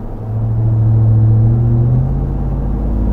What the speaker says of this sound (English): Yeah, you do hear the tires a little bit.